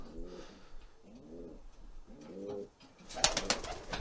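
Racing pigeon cocks in a loft coo repeatedly and close by in soft, rolling phrases, ending in a brighter burst of bird calls with a flutter-like rustle.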